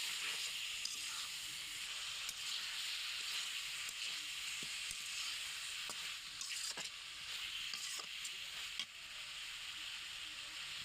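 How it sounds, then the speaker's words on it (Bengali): Chicken skin fries in spice paste with a continuous, fairly even hissing sizzle, broken now and then by clicks and scrapes as it is stirred in the pan, with no speech. "এখন মুরগির চামড়াটা আমি দিয়ে একটু নাড়াচাড়া দিয়ে"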